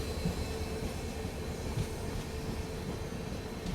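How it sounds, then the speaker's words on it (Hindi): A diesel locomotive shunting near an Indian Railways line, heard as a low, steady rumble of engine and rail noise, moderately distant and fairly quiet, with no talk over it. "ओह, डीजल लोकोमोटिव के भी दर्शन हो गए।"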